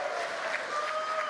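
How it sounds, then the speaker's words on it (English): Applause breaks out at mission control after the Polaris Dawn crew capsule splashes down, a steady dense wash of many hands clapping at moderate level, with a faint tone running underneath. "and then the applause"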